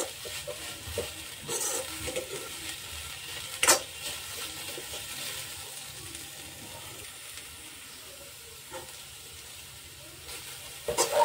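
Finely chopped onion frying in a pan for Kolhapuri chicken curry, a steady close sizzle with occasional stirring scrapes and a few louder clinks, no talking.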